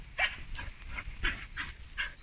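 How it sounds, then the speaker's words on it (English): A dog barks in a steady run of about five sharp, close barks, each separated by a short pause, with no voices over them. "Calm down, dog."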